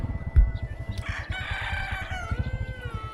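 A rooster crows once, loud and close, on a morning in a rural village, rising and holding over a low background rumble before trailing off.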